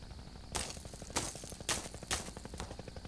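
Gunfire in Half-Life 2, several loud sharp shots spaced about half a second apart over a steady mechanical rattle in the background, with no voices.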